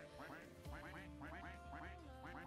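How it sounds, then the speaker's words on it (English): Ducks in the Roblox game Duck Army, many overlapping cartoonish quacks in rapid repeated bursts forming a dense, steady chorus. "Keep quacking, boys."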